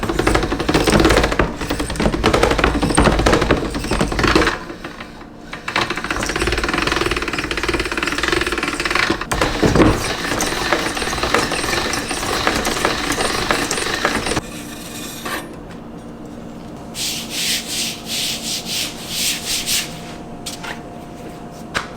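Ramen noodle dough for a porcini ramen pressed through a pasta maker on its number 3 setting, a steady loud rumbling crank and roll with mechanical rattling and clicks, quieter and more intermittent toward the end, no talking.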